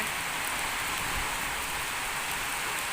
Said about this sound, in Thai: วันนี้ฝนไม่ค่อยแรงเท่าไหร่นะคะ